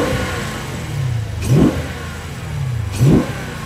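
A Dodge Challenger 392 Scat Pack V8 with ram air and a larger intake gives two quick throttle blips from a rumbling idle, each rising sharply and falling back, close and loud.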